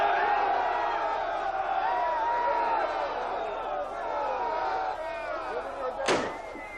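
Civil War reenactment soldiers of Company A, 54th Regiment, raise a loud group cheer, a crowd of voices shouting together over several seconds, ending with a sharp slam-like burst.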